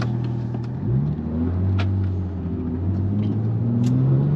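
A Porsche 911 991.2 and a C7 Corvette accelerate together from a 40 mph roll in second gear, engines rising in pitch through a loud, steady climbing drone with a brief dip near the start.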